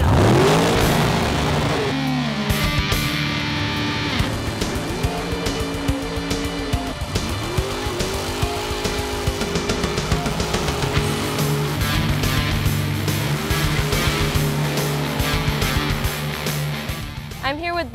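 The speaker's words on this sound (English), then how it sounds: "We're here at Palm Beach International Raceway, and this is the 38th annual Citrus National." Race car engines rev and rise in pitch again and again at Palm Beach International Raceway during the 38th annual Citrus National, loud and continuous, with a voice talking over the engines.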